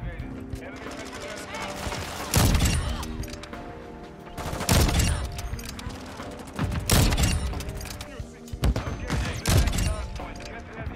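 Gunfire in the video game Call of Duty: Modern Warfare II comes in four loud, sharp bursts spaced a couple of seconds apart, over a busy background of mechanical clatter.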